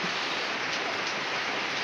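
Steady, dense rainfall hissing evenly on surfaces, a continuous close wash of drops with no gaps or other sounds.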